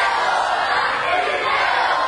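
A crowd at a wrestling match keeps up a steady roar of voices jeering a wrestler, loud and even with no breaks.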